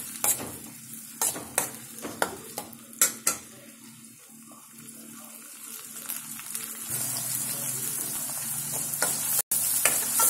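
Tomato masala with salt sautéed in a pan, a spoon scraping and clanking against the metal in sharp bursts over a continuous sizzle that grows louder and hissier toward the end.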